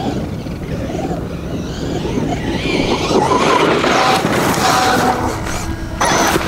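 A Mamba Monster X RC car on a 6S LiPo battery at full throttle, a loud rising electric whine with rough rumble and scraping, close and continuous, building in intensity then holding.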